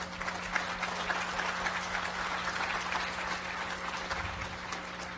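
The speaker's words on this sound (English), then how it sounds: "How about a big round of applause for those guys?" Applause from a hacking conference crowd at DEF CON 11, steady mid-level clapping filling the room, heard from a distance over a constant low electrical hum.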